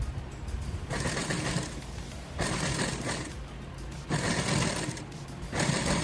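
A sewing machine stitches alongside piping thread in four whirring bursts, each lasting about a second. Short quiet pauses fall between the runs.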